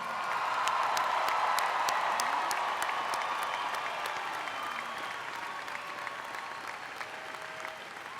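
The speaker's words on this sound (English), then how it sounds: "Everyone, please join me in a round of applause for our newest alumni of the Cullen College of Engineering." Sustained audience applause at a spring engineering commencement ceremony, a dense steady wash of many hands clapping that fills the hall and tapers slightly toward the end, with no talk over it.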